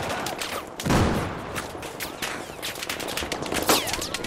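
Gunfire in the Battlefield 4 video game, rapid bursts of automatic shots and sharp cracks with a heavier blast near the start, fairly close, with some speech mixed in.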